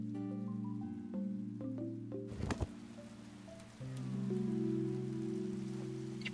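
Rain patters steadily in the Paleo Pines video game, a soft continuous hiss under sustained musical tones, briefly joined by a sharper splashing burst midway.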